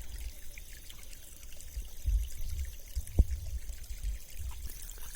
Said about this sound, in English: I hope you enjoyed this wonderful stream of water.